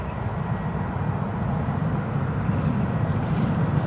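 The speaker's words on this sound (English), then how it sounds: "So we're looking at the incoming British Airways flight, Airbus A319" A British Airways Airbus A319 airliner at Newcastle International Airport roars steadily in the distance, a continuous low engine rumble with no talk over it.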